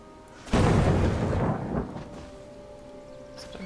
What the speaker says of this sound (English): you just feel like bringing the thunder